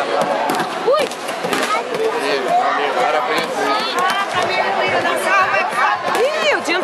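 Supporters at a swimming race's 50 m freestyle yell, whoop and chatter in a dense, continuous crowd roar, with individual shouts cutting through close by.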